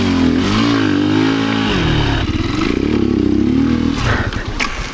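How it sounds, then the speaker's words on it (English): An enduro motorcycle engine revs hard and continuously, close up, as the bike rides over slippery logs hidden under grass, with rising and falling throttle and some clattering. "I can't see what I'm riding over, and it appears to be slippery logs under the grass."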